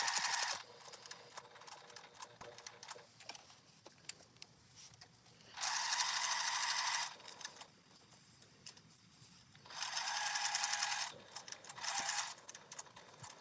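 A sewing machine stitches a 3/8 inch seam in two distinct runs of steady whirring, separated by quiet handling clicks and small mechanical ticks, fairly close and with no talking.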